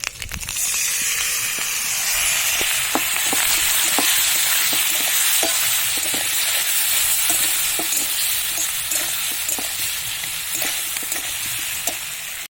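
Spiced masala with extra chilli powder sizzles and fries steadily in a pan, a loud continuous hiss broken by regular scraping stirs throughout, with no voices.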